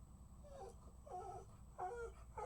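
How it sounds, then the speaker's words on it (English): A dog howls faintly in the background indoors, giving a few short, whining, wavering calls over a low steady hum. "I'm waiting until he's done howling"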